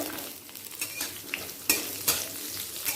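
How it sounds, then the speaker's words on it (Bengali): Bitter gourd frying in mustard oil with bay leaf and panch phoron keeps up a constant sizzle, broken by a few sharp scrapes and clinks of a spatula stirring the pan, up close. "উচ্ছেটা হালকা লাল করে ভেজে নেব"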